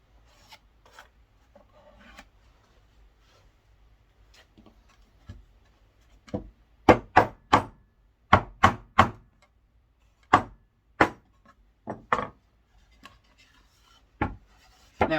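A tool scrapes excess glue squeeze-out off a wooden drawer joint in a run of short rasping strokes, faint at first, then a quick burst of louder scrapes followed by spaced single strokes, close up and alone.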